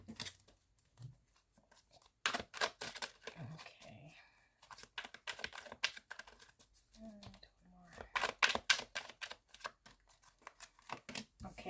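Tarot cards being shuffled by hand in a quiet room, a run of quick crisp riffling and slapping bursts in several batches with short pauses between them, close and fairly soft.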